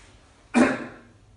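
A single short cough, close and fairly loud, against a quiet background.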